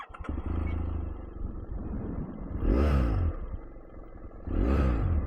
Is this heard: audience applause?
no